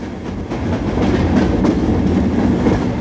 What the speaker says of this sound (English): This is a recreation of the fast freights hauled along the Great Central from Woodford Halse to Nottingham